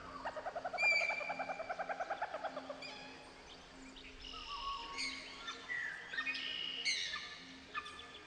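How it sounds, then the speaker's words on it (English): Silly bird videos playing on a giant screen in The Stanley Parable Ultra Deluxe: a jumble of chirps, tweets, hooting and trilling calls, fairly faint and continuous, with shifting birdsong layers over a soft insect-like hum. "Stanley flipped through one video of silly birds after another"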